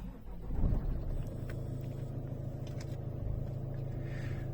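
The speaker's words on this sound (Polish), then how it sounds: "Odpalamy samochód, a w Polskanie uruchamiamy tą opcję odczyt danych." A Ford car engine starts with a short cranking burst and then settles into a low, steady idle rumble, close and fairly quiet.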